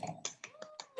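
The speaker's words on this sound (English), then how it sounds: "go ahead and keep those snaps and those claps going" A quick scatter of finger snaps from an audience at a sixth-grade spoken word poetry slam, about six dry clicks in a loose rhythm, with a faint voice underneath.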